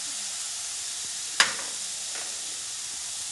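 Momo filling dry-roasts in a pan, a steady close hiss and sizzle with one sharp scrape of stirring partway through.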